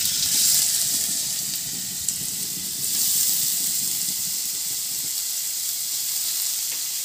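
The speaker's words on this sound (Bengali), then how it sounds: "এই আলুগুলোকে কড়াইয়ের মধ্যে দিয়ে দেবো" Potatoes dropped into a little hot white oil in a wok give a steady, close, broadband sizzle that runs for the full seven seconds, with a brief rise in intensity near the start and no talking over it.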